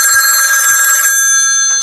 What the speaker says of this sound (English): do not answer this phone call